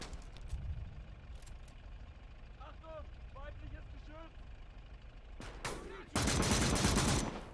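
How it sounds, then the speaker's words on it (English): Gunfire and battle noise in the WWII Eastern Front mod of Call to Arms – Gates of Hell, with scattered distant shots, then a sharp burst and a loud sustained roar of firing near the end, under a voice speaking. "he's shooting"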